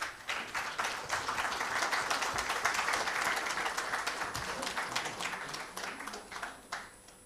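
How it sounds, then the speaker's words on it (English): An audience at a felicitation ceremony claps steadily and fairly loudly for several seconds, a dense sustained round of applause that tapers off toward the end. "Please give a huge round of applause"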